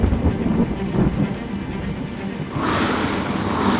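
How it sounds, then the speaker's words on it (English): Heavy rain pours steadily during a long bike ride, a loud continuous hiss with low rumbling and a brighter spray of water rising toward the end, with no voices. "No matter how well you prepare for the rain, if you're in it long enough, it's going to get the better of you."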